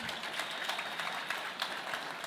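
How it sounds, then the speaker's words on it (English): Audience applause at the grand opening ceremony of the Cleveland Public Library Martin Luther King Jr. branch, a steady, moderately distant wash of clapping that carries on evenly without a break. "let's give them a round of applause for that wonderful introduction"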